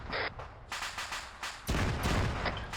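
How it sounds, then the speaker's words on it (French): Several heavy booms and bursts of gunfire-like blasts in the video game Arma 3, loud and close, with a sharper impact partway through followed by continued rumbling. "on entend des explosions"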